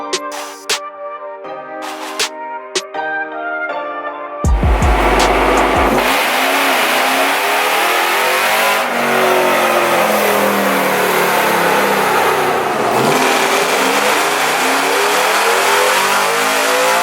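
A Ford Raptor engine revving hard on a dyno during a power run, loud sustained roar climbing in pitch after a few brief blips, with no talk.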